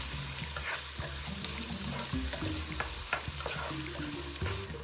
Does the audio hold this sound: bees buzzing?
no